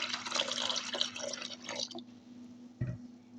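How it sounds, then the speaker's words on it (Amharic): Water is poured into a bowl while mixing batter for injera made with forno flour. A short splashy pour is followed by a brief quiet pause and then a dull thump. "ውሃ ትንሽ እጨምራለሁ።"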